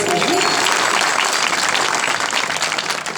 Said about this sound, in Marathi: टाळी वाजली